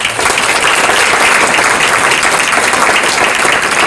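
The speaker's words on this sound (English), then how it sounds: "all of these people deserve a round of applause" A large audience at an evening healthcare changemakers celebration breaks into loud, sustained applause, a dense even wash of clapping that holds steady throughout with no voices rising above it.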